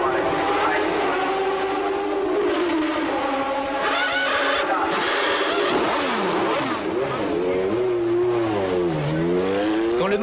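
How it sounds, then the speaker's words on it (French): A 1989 AGS Formula 1 car at pre-qualifying for the Belgian Grand Prix, its engine revving loud and close with rising and falling pitch sweeps, while commentary in French runs over it. "Quand le moteur de Dalmas a enfin consenti à causer"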